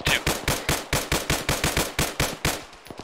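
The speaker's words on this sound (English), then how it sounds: "follow the sounds of the gunfire" Automatic gunfire in the military shooter ArmA 3 during a desert highway battle: a rapid, even burst of about fifteen loud, close shots over three seconds, tapering into a few scattered rounds.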